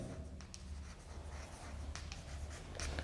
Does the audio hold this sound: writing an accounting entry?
yes